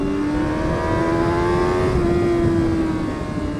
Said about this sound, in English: I want to see if we do a wheelie out of a corner.